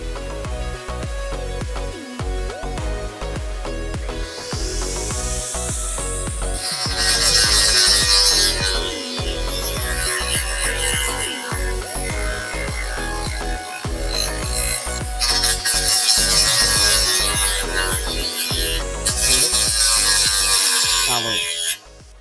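A cordless electric brush cutter blade chews through a small tree, a steady loud whine with grinding and rasping bursts as the blade bites into the wood, running continuously close to the microphone.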